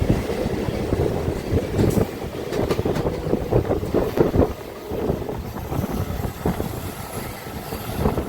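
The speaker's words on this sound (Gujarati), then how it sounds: "બદલાપુર જવા માટે અહીંથી સુપરફાસ્ટ ટ્રેન પકડવી પડશે" A superfast Mumbai suburban train runs toward Badlapur, heard from on board as a loud, continuous rumble and rattle with gusty wind buffeting the microphone and no talk.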